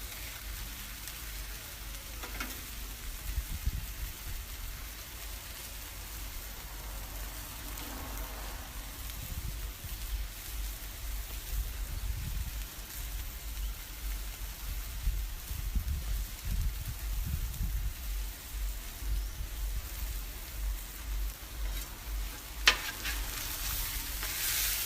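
A steak searing on a high-heat Blackstone griddle gives a steady, dense sizzle and crackle that runs unbroken throughout, with a few faint clinks.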